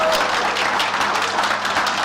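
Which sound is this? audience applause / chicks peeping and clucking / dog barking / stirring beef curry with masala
audience applause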